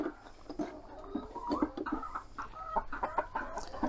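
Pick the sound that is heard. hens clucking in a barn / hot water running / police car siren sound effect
hens clucking in a barn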